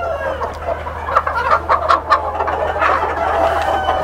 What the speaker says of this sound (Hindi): ये कलगी वाली मुर्गी पकड़ते हैं ज़रा